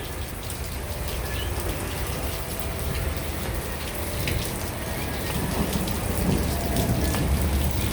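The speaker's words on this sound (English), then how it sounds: "This is a cold storm that we're getting hit with." Steady heavy rain and hail pour down during a cold storm in Tucson, with low thunder rumbling underneath; the dense, continuous downpour stays loud and close throughout, swelling slightly toward the end, with no voices.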